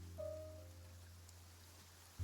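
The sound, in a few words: rain falling, from the video game Genshin Impact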